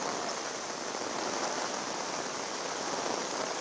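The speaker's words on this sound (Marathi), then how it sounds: "मुंबईच्या दादर परिसरामध्ये मुसळधार पावसानं हजेरी लावली आहे" Heavy rain falls in Dadar, Mumbai as a dense, steady hiss that stays constant and close throughout, with no voices.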